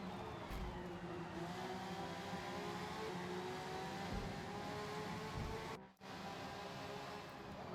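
Race cars lapping Watkins Glen in a racing video game, a steady dense engine drone from a pack of cars running together, held loud throughout with a brief dropout near the end.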